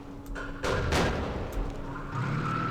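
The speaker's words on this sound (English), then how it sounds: "Just anti-tank guns galore." Anti-tank guns fire in the wargame Campaign Series East Front, giving a few dull booming reports over a steady low background, one after another in quick succession.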